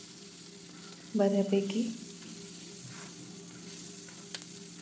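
Onion sautéing in a pan for matar paneer gives a steady, soft sizzle throughout. A voice speaks briefly over it near the start, then the frying carries on alone with a few small stirring clicks.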